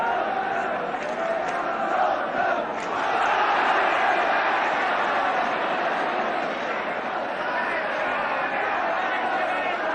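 Crowd of Tottenham Hotspur supporters at a 1975/76 league match against Middlesbrough, roaring their team on in a football stadium: a dense, steady wall of massed voices lasting ten seconds, swelling slightly through the middle.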